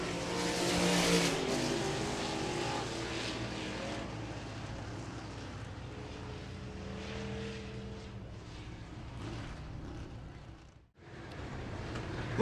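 A field of IMCA stock cars racing at Hancock County Speedway, with a broad engine roar that swells as cars pass near, then eases into a steadier distant drone before a brief drop and renewed noise.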